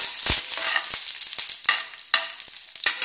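Cashews, curry leaves and red chillies fry in hot oil for coconut rice, giving a steady close sizzle broken by sharp crackles and pops, with no one talking.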